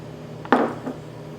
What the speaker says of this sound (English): Now I'm gonna add the paneer